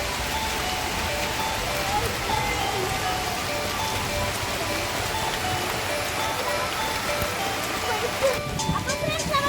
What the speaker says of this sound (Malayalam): അപ്പൊ കുളത്തിലെത്തിയിട്ട് നല്ല മഴയാണ്.